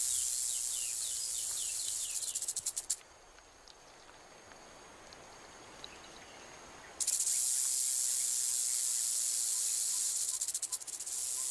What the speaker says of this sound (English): Rattlesnakes sound a more blatant alarm when people get too close.